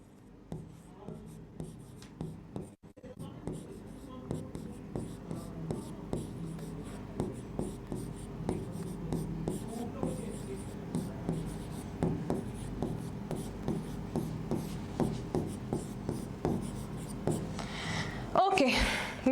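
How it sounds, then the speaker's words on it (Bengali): Chalk writes on a blackboard in a steady run of short scratchy strokes and taps, close and fairly quiet, while someone speaks intermittently over the writing. "তাহলে এটা একটু এখানে আমি লিখি।"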